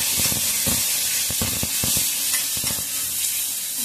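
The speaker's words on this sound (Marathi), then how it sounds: "चांगलं तेल सुटेपर्यंत आपल्याला तळून घ्यायचं वाटण." Ground spice paste sizzles and fries in oil over a low gas flame, with a steady close hiss and intermittent scraping stirs of a spoon through the thick masala, and no one speaking.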